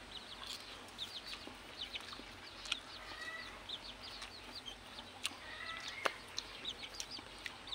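Chickens cluck and a rooster calls amid scattered birdsong, all fairly faint and distant in an open farm field in the rural Philippines.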